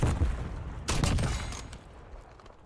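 Gunfire in Call of Duty: Warzone, a couple of loud close bursts with a sharp volley near the start and another about a second in, tailing off into fainter distant shots.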